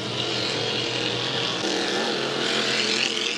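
A Hydro350 hydroplane racing boat at full throttle during a heat at Valleyfield, its engine roaring loudly and continuously with a steady high-pitched drone.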